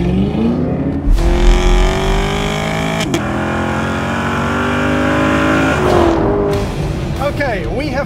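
A Chevrolet Camaro SS 1LE on a race track, engine droning steadily at high revs with shifts and a surge of acceleration, then fading with tire noise, loud and close, with a voice talking over it.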